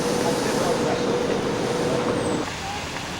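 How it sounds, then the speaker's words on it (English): Broad rumbling roar of a metro train arriving on a lower level of an underground Washington, D.C. station, steady and loud before easing off near the end. "Train at a lower level."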